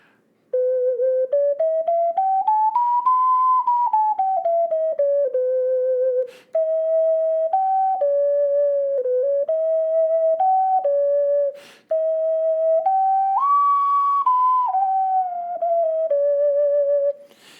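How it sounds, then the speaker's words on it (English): A red Sifan ocarina plays a clear, pure-toned melody of sustained and stepped notes, with two brief pauses between phrases, close and alone. "A sound sample of the red Sifan"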